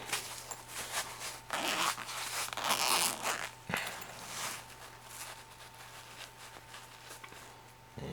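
A small plastic zip-top baggie being handled and pulled open, with soft crinkling and a zipper-like rasp in bursts, close and fairly quiet, no talking.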